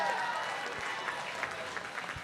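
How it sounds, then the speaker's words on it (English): An auction crowd at a charity gala cheering and applauding, a dense wash of clapping and raised voices filling the room throughout, with talk mixed in. "Crowd goes crazy when the auctioneer"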